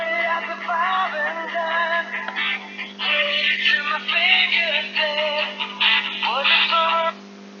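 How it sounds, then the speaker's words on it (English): A phone plays a melodic ringtone or notification of bright, warbling tones in short phrases for about seven seconds. It sits over a low steady hum and then stops abruptly. "Sorry about my phone there"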